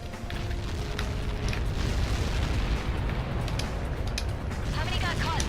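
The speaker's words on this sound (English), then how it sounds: "How many got caught in that explosion?" A missile impact explosion in the flight combat game Ace Combat 7 makes a loud, sustained broadband rumble with deep booming low end that rolls on steadily for several seconds without easing.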